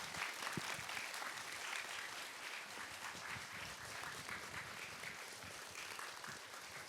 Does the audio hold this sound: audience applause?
yes